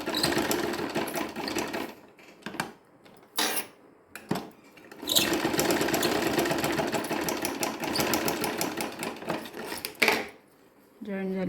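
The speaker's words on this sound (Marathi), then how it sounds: "आता मी ना जरा अशी शिलाई मारून घेते, मग व्यवस्थित लागते पट्टी" A sewing machine stitching a strip onto a blouse, running in loud sustained bursts with brief pauses between them, close up and with no talk over it.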